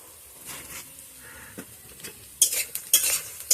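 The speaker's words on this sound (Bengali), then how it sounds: "বড়ি, পেঁয়াজ, রসুন কুচি আমার দেখো খুব সুন্দর ভাজা হয়ে গেছে" Lentil dumplings (bori), onion and chopped garlic fry in a pan. A soft sizzle runs under light spatula scrapes, then sharper metallic clatters come in quick bursts near the end.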